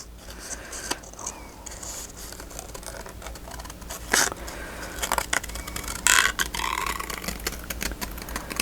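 Scissors snip through paper valentine tag cards in a crafting session, a close run of crisp cuts, rustles and scrapes with short pauses between strokes.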